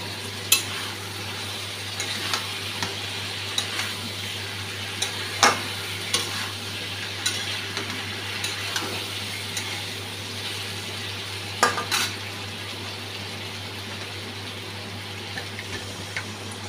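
Potatoes and pointed gourd being stirred into spiced oil, with a steady low sizzle, scattered scraping clicks of the spoon against the pan and a few sharper clanks, no talking.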